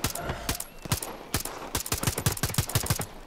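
Gunfire from the video game Far Cry New Dawn comes as sharp, separate shots that speed up into rapid bursts. The shots are loud and close, with no talking over them.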